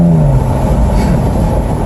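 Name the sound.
Jaguar F-Type engine revving with exhaust crackles and pops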